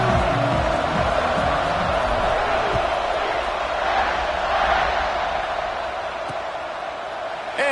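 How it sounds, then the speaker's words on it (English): Stadium crowd noise from the college football video game NCAA 26, a steady broad roar of fans that swells slightly mid-way and eases toward the end, with low rumbling underneath and faint commentary-like voices. "And this crowd is ready for a big one."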